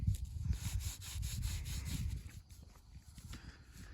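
A United States one-cent coin found while metal detecting is rubbed on pants outdoors at night, making a close, soft scrubbing rasp in quick repeated strokes that fade toward the end.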